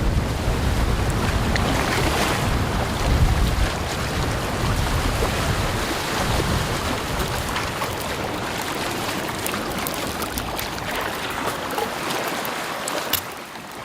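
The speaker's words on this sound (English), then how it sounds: "a view of the waves rolling in with this big south wind" Strong south wind drives waves rolling in on a big lake, a steady loud roar of surf and gusting wind buffeting the microphone throughout, with no voices.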